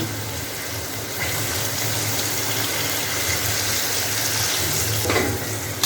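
Hot water pours into a pan of spiced potatoes for alu paneer dalna, a steady rushing splash running continuously under a low kitchen hum, with a brief louder burst near the end.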